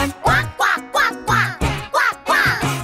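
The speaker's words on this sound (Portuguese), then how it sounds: "Cante quack aqui, cante quack lá." In a children's farm animal song, a rapid series of about eight loud duck quacks repeats in steady rhythm, each one bright and nasal, close up.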